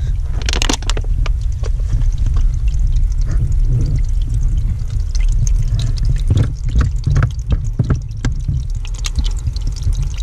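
Snowmelt trickles on a mountain trail as water bottles are filled, a loud, close, continuous pouring and gurgling with splashy bursts and handling knocks, no talk.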